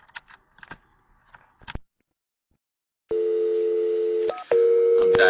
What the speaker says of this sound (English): I'm dialing in.